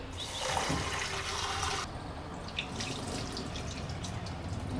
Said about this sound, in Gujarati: હવે આ ભાતને પાછું ધોઈ લેશું આપણે